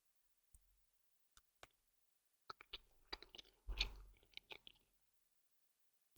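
Multicoloured Halloween candy being chewed up close, with sparse sharp bites early, then a dense burst of wet crunching and clicking mouth sounds before trailing off.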